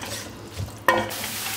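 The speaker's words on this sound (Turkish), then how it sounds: "Şimdi soğanlar pembeleşene kadar orta ateşte kavuruyorum." Onions sizzle in hot oil, with a stirring scrape partway through; the frying hiss swells louder afterward and continues steadily.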